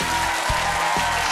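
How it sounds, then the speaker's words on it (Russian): Steady, dense applause from a studio crowd in the Field of Miracles (Pole Chudes) TV game show video game, a continuous loud clapping wash with a faint background tone, lasting just over a second. "Эти аплодисменты вам."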